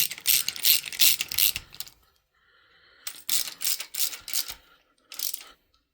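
Ratchet wrench tightening the cam feed pipe fittings on a 1994 Jaguar XJS V12 engine: bursts of rapid, close, loud pawl clicking separated by short pauses, with a faint mechanical whine between strokes.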